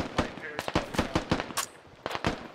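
Gunfire in the military shooter Squad, a rapid string of sharp rifle shots in quick bursts at moderate distance, with a brief pause before two more shots, and a voice faintly talking underneath.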